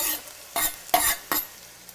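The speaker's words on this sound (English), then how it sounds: "let me give that just a quick little stir" Celery and onions sizzle in a frying pan for chicken cacciatore while a utensil stirs them, giving several distinct scraping strokes over a soft steady sizzle, close and without talk.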